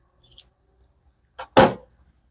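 Scissors snip through crochet yarn at close range, with a faint light click followed by a sharper, louder closing snip in a quiet room, no voices.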